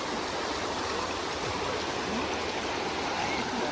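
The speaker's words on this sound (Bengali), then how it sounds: "এটা হচ্ছে মূর্তি রিভার," The cold Murti River flows past as a constant rushing, burbling hiss close by, steady throughout with no voices.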